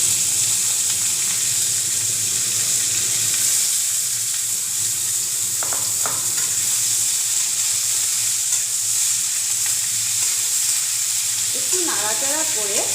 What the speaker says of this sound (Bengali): গরম হয়ে এসছে, আমি এখন বেগুনগুলো এর মধ্যে দিয়ে দেব।